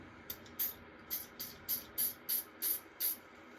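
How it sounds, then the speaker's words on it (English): DeoxIT D100 contact cleaner is sprayed into a car radio connector in a series of about nine short, sharp hissing bursts in quick, fairly even rhythm, close and distinct over a quiet background. "we're going to spray inside this connector."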